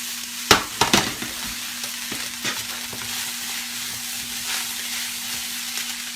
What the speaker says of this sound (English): And then of course stir that around a little bit.